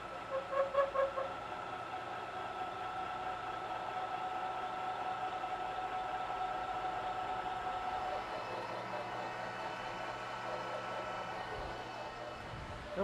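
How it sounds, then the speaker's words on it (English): A lathe climb milling a 50 thousandths pass at 200 RPM with a slow feed, a steady mechanical hum with faint tonal whine that holds evenly throughout, moderately quiet. "That was climb milling for a 50 thousandths pass, great finish."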